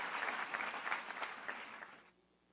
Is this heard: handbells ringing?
no